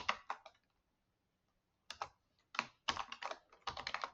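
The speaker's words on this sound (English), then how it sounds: "let me finish typing this out" Bursts of quick keyboard clicks, a pause, then more rapid typing in irregular clusters, close and fairly quiet.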